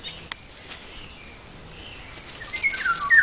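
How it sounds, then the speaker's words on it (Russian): Small birds chirp outdoors in light, scattered calls that rise into a few brighter tweets near the end, set against faint rustling and background noise. "Слышишь, как тут птички чирикают?"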